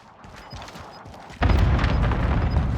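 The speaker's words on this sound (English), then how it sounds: "Allied cluster strike inbound" A cluster strike in Call of Duty Modern Warfare lands partway through, a sudden loud booming wall of explosions that rumbles on steadily after faint distant gunfire and a quiet voice.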